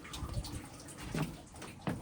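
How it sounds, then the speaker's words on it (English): Water drains out of boat engine blocks during winterizing, an irregular trickle broken by a few splashy gushes, moderately quiet and heard alone without talk. "while these engine blocks are draining out"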